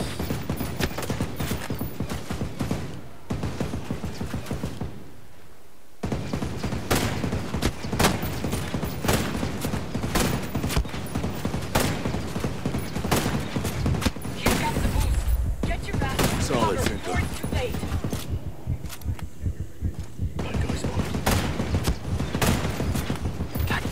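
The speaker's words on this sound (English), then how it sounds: "This fucking gun." Rapid bursts of gunfire from a weapon in Ghost Recon Breakpoint, sharp repeated shots in quick succession with brief pauses, loud and close throughout.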